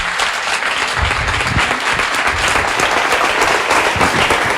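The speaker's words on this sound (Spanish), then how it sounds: "Un aplauso para el maestro Ordiné." An audience applauds a guest lecturer, Nuccio Ordine, at a Spanish-language book talk on classics; dense, steady clapping fills the room at close range for several seconds without voices.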